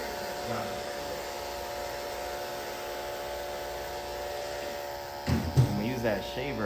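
A barber's electric shaver buzzes steadily during a skin fade haircut, a constant close hum, with someone talking over it near the end.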